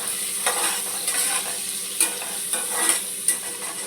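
Capsicum, onion and tomato sizzle in a pan, a continuous bright frying hiss with regular stirring scrapes roughly every half second, close and without voices.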